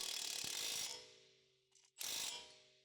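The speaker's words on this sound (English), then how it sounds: "Use a 17mm deep socket with an electric impact wrench to tighten the upper mounting nut on the sway bar link" An electric impact wrench with a 17mm deep socket drives the upper mounting nut on a Ford Escape sway bar link, giving two loud buzzing bursts separated by a short pause, close by with no talk.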